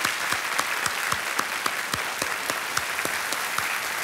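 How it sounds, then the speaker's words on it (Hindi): Enthusiastic studio audience applause on a Hindi television quiz show, a dense steady wash of clapping with a few sharp rhythmic claps standing out, carrying on alone without speech. "एक बार फिर से जोरदार तालियां इशिता जी"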